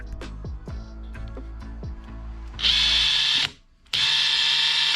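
A DeWalt DCF850 cordless impact driver on speed setting one, first short rising motor whirs, then two long steady high whines with a brief gap between, close and loud, no voices.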